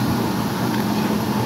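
A gas stove burner and an electric kettle, both running in a kitchen, give off a loud, steady, even hiss that continues unchanged throughout.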